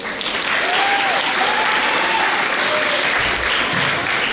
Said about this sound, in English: Let's give one more round of applause for our sixth graders